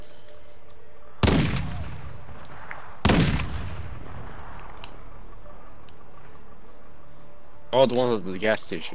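Gunfire in a shooter video game, two sharp, loud single shots a couple of seconds apart with echoing tails, followed by people talking.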